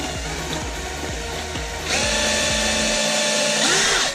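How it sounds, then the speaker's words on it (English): A small power drill whines as it bores little holes through the thick shell of a snapping turtle, starting with a steady pulsing buzz and then rising to a higher, louder continuous whir. "I'm gonna try to drill a couple of little holes through a thick part here."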